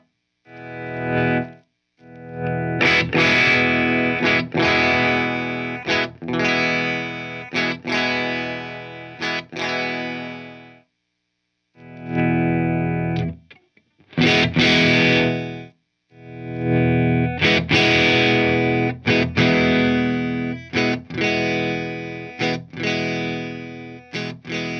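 A 2016 Fender American Standard Telecaster electric guitar plays sustained strummed chords with distortion and a chorus-like effect, loud and close, in several long phrases separated by brief pauses with sharp rhythmic chops.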